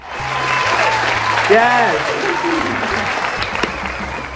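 A crowd at a school history event applauds and cheers loudly and continuously, with a person shouting excitedly over the clapping.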